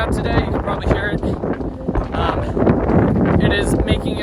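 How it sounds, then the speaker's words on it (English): Strong wind on a mountain along the Appalachian Trail in Maine buffets the microphone in loud, uneven gusts and rumbling blasts that rise and fall throughout. "It is super windy out today. You can probably hear it."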